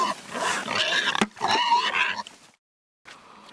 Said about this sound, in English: We do have a lot of pigs.